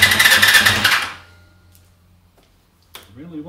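A Honda CBR250R MC19 motorcycle engine cranking, a rapid, rattling mechanical churn with leaking exhaust manifolds, cuts off abruptly after about a second, leaving near silence before a voice speaks briefly.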